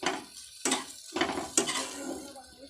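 A spice mixture for a pointed gourd and egg dish stirred in a pan, with a few distinct scraping strokes of a spoon against metal over a faint sizzle, close and fairly quiet.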